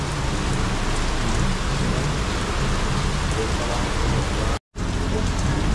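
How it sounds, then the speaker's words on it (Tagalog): Heavy rain pours down in a steady, dense roar, loud and close throughout, with a brief dropout near the end. "Kaso ang lakas lang ng ulan."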